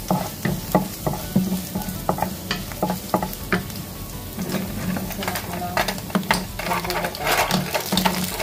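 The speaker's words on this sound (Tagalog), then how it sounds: "Maglalagay tayo ng mantika. Igisa muna natin ito guys." Oil sizzles and crackles steadily in a pan as ingredients are sautéed, with a spatula stirring and scraping in irregular clinks throughout, close and fairly loud, for a Filipino ginataang tahong (mussels in coconut milk) dish.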